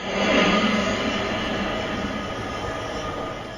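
A train in the Roblox Brookhaven game rumbles along the rails, with a steady rolling drone and faint wheel squeal. It is loudest at the start and then holds a constant level, with no talking.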